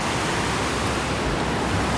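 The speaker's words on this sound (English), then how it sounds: "Check out this waterfall." Waterfall on a backpacking trail, a steady, loud, broadband rush of falling water heard up close with no talk, even and unbroken throughout.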